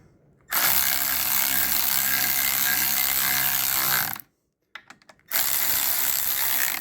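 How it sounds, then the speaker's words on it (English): An electric ratchet snugs bolts on a classic VW Beetle gearbox: two long, loud, steady buzzing whirs close by, split by a short pause with a few clicks in between. "So I just nip them up with the electric ratchet"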